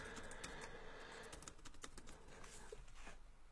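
Fingers tap quickly on a computer keyboard while an email address is entered, a quiet, irregular stream of light clicks with short pauses and no talking.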